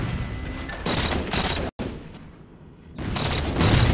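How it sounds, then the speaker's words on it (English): Battle rifle fire in a Halo 4 competitive match comes in loud, close bursts of rapid shots, separated by a brief quieter gap. "That's a very good BR shots there to kill GANDHI HOPPIN"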